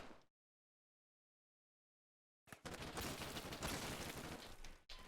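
Heavy .50 cal machine gun fire in the Combat Mission: Black Sea war game: after a silent gap, a loud, dense, sustained burst of rapid shots runs for about two and a half seconds, briefly dipping near the end.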